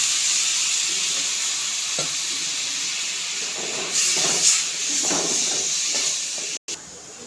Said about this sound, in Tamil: தண்ணி கொதிச்சுக்கிட்டு இருக்கு